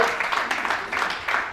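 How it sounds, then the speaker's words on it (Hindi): An audience at a store meeting in Indore claps loudly and steadily for a little over a second and a half, with dense, even applause throughout. "तो जोरदार तालियां पहले अपने भगवान के लिए"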